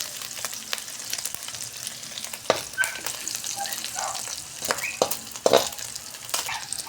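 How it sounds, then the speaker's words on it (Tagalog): Ingredients for pancit bihon sautéing in a pan, a steady close sizzle of frying with intermittent clinks and scrapes of a utensil stirring. "Tapos dito na rin natin igigisa."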